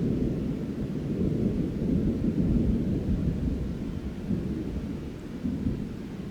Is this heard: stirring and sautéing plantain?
no